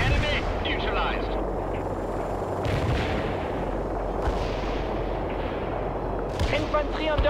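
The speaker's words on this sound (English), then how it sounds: "Coordinates hit by our mortar barrage." Mortar barrage in the strategy game World in Conflict: continuous rumbling explosions and booming impacts layered densely, with radio voice chatter heard faintly over the battle noise.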